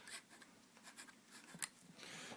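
A pen scratches across printing paper while drawing a smiley face, producing soft, close strokes in short irregular bursts with brief pauses between lines.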